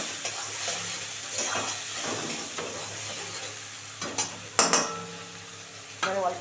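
Ground spice paste with poppy seed sizzles in a pan for a rohu fish and bok flower dish, with a steady close fry broken by clinks and scrapes of a utensil stirring.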